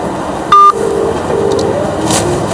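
A single loud DTMF keypad tone from a phone dialing a pharmaceutical trader's number, a short steady beep over a background hum, with no talking.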